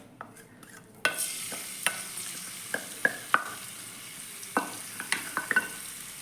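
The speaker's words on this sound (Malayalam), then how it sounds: "ഇനി അതിലേക്ക് ഞാൻ ഒരു ചെറിയ കഷ്ണം ഇഞ്ചി, ഒരു 5-10 വെളുത്തുള്ളി ചതച്ചത് ഈ ചൂടായ എണ്ണയിലേക്ക് ഒന്ന് ഇട്ട് കൊടുക്കുന്നുണ്ട്" Ginger and crushed garlic hit hot coconut oil and start a steady sizzle close by. A spatula scrapes and clinks against the pan in short, irregular knocks over the frying.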